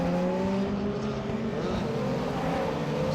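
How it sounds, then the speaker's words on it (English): Lotus race cars accelerate out of a chicane on a race track, a sustained engine drone with rising tonal whine, fairly distant and even in level for the few seconds heard. "They exit the chicane and accelerate on towards the source."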